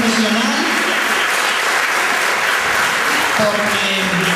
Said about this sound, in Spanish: Alfonso, al presentador, un aplauso, José Manuel García, gran profesional,